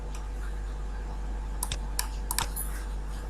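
Typing on a computer keyboard makes a few sparse, light key clicks close by over a steady background hum, with no talk.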